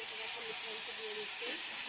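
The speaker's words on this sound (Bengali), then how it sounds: "এবার আমরা একই তেলের ভিতরে দিয়ে দিচ্ছি কয়েকটা 5 ফোড়ন দিয়ে" Steady bright hiss of five-spice seeds tempering in hot oil left from frying taki fish, a continuous close sizzle with faint crackles and a quiet voice beneath.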